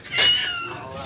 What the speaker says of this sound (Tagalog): Ang ganda ng pusa, oh. Puti.